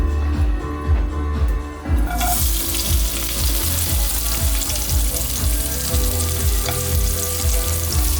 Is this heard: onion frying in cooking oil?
yes